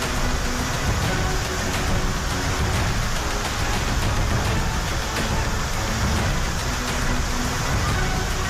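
Heavy rain during the Uttarakhand floods pours in a dense, steady roar that holds loud and even throughout, with no voices.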